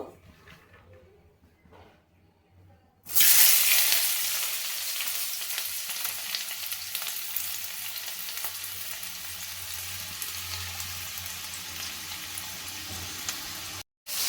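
Carrots and capsicum hit hot oil with a sudden loud sizzle after a few quiet seconds, then fry steadily and evenly, briefly cutting out near the end.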